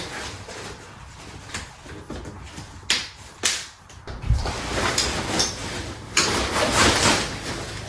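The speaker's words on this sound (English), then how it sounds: "I'm just going to snap it onto the frame." Fabric of a Valcobaby Snap Duo Elite stroller being pressed onto its frame: several sharp snapping clicks and rustles at close range amid handling noise.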